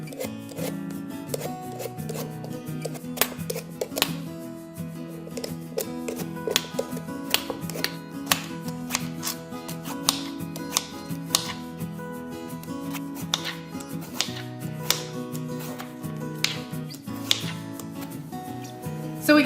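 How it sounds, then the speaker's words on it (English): A pumpkin is peeled with a potato peeler or sharp knife, producing many short, crisp scraping strokes in an irregular rhythm over a faint background hum, close and fairly quiet. "So if you have a really good potato peeler, you can use that to start peeling the skin off, or use a sharp knife."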